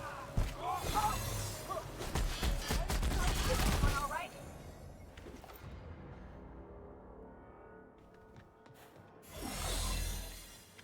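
Big guns firing in The Outer Worlds: dense bursts of rapid gunfire in the first few seconds and again near the end, loud and close, with a quieter stretch between.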